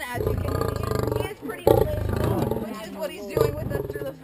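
A male big cat at an animal sanctuary lets out repeated deep, throbbing roars at close range toward visitors, who talk over and between the roars.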